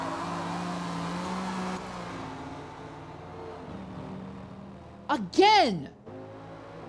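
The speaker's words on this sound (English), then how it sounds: "Garmite goes after Ottavio, fighting BMW versus Mustang all over again" BMW and Mustang race cars in a sim racing game, with a steady engine drone under commentary, then a sharp revving sweep as a car accelerates past before the sound settles again.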